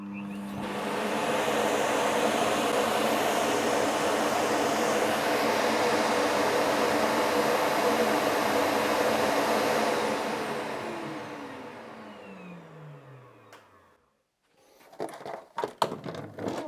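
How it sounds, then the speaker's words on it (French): A Dreame L20 Ultra robot vacuum dock empties dust on its own with a loud, steady suction roar that holds for about ten seconds, then winds down in falling pitch to silence, followed by a few clicks and handling knocks. "il y a un menu qui nous permet d'exécuter le vidage automatique"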